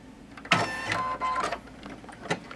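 An embroidery machine stitches a tack-down for the detail of a coat sleeve, giving several short, close mechanical bursts of rapid whirring and clatter with brief pauses between them.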